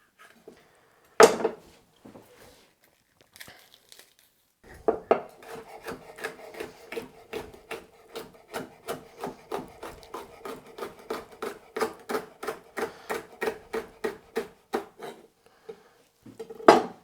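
Peppers being chopped with a knife on a board for salad and stir fry: a few scattered knocks, then a long, steady run of crisp, evenly spaced chopping strokes, close and clear, with no talking.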